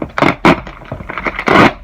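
Plastic dividers are tugged out of a cheap utility storage tray, giving a few close, loud scraping clacks and crackly snaps in quick bursts.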